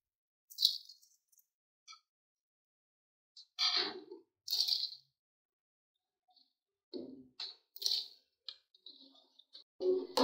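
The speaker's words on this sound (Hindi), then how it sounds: "अब मैं चावल शामिल करूंगी।" Rice grains added to a pot of water for fish pulao, scattered light clicks, taps and rattles in sparse bursts separated by silence, close up.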